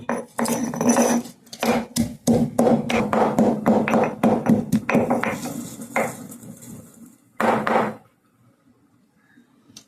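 Rhythmic thuds of cumin and garlic being pounded by hand for a brinjal and elephant-foot-yam pulusu, a quick run of close, sharp knocks with brief pauses, ending in near silence.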